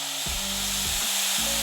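A .25 caliber Avenge-X Carbine air gun being degassed through its degas port with a Fix-It stick, giving a loud steady rush of escaping air that runs continuously and cuts off abruptly near the end.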